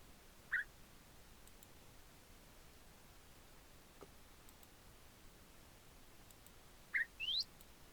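Parrots in Minecraft give a few short, faint chirps: one near the start, then two close together near the end, set in near silence.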